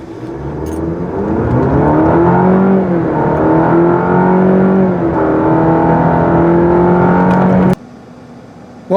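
A 2020 Cadillac CT4 with a 2.7L turbo engine accelerates hard from a standstill toward 60 mph with traction control off, its engine note rising loudly through several gear changes before cutting off abruptly.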